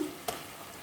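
Mutton chops and gravy parts frying in a pan, a faint continuous sizzle with a brief stirring scrape.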